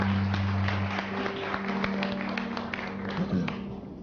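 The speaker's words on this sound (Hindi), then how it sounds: "सावर के लिए बहुत सारी तालियां।" Studio audience applause during a Hindi-language interview show, a continuous crackle of many hands clapping at moderate level over a low steady hum, tapering slightly toward the end.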